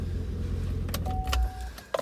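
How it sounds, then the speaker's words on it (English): A 2015 Chevrolet Camaro SS with low mileage idles with a low engine rumble, then shuts off with a soft thump. A faint electronic tone and clicks follow from the cabin. "Let's go ahead and shut the car off now"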